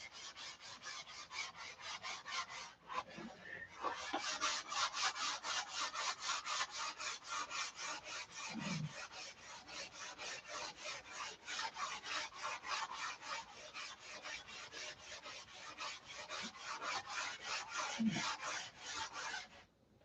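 Steady rhythmic rasping strokes of sanding on a wooden SIG Magnum fuselage, close and continuous, with a couple of faint low thuds.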